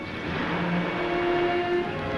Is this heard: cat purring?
no